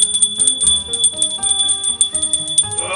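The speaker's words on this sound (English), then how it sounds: "every time a bell rings" Bells ring repeatedly in a steady, bright, ringing pattern, loud and close with sustained high tones and no talk over them.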